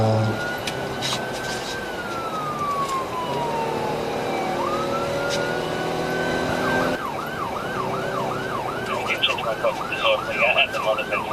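A police car siren wails during a high-speed pursuit, starting with slow rising and falling sweeps and then switching to a fast yelp. It is loud and continuous over road and engine noise, with traffic rushing past.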